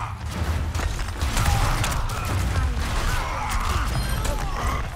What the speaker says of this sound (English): Oh, that was two big fire strikes right there.